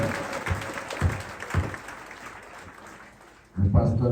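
A church congregation gives short bursts of clapping and cheering, then louder applause swells near the end, mixed with some voices.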